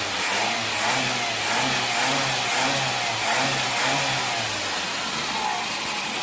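A Volkswagen Voyage's carbureted gasoline engine, adapted to run on alcohol, idles smoothly and steadily with a soft rhythmic pulse, heard alone at moderate distance.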